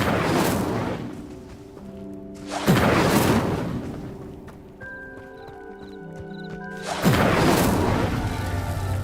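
Incendio fire spell cast in Hogwarts Legacy, heard as repeated loud whooshing bursts of flame, three broad blasts spaced a few seconds apart, with faint tonal game music ringing between them.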